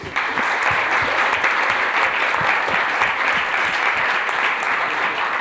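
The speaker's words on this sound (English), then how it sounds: "Let's give them another round of applause" Sustained applause from a room full of people, steady and dense clapping that continues evenly from start to finish.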